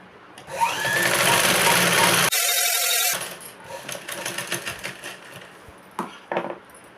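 A sewing machine stitches a strip of fabric on a blouse in a close, fast, steady whir lasting a couple of seconds, then stops. Soft handling clicks and rustles follow.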